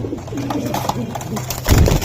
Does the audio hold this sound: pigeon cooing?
yes